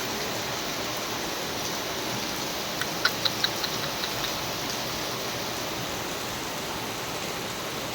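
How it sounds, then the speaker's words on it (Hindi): Heavy rain falls outside as a steady, even wash of hiss, moderately loud and unbroken, with a few faint tapping drips partway through and no talking. "ये देखो बारिश कितनी तेज़ आ रही है।"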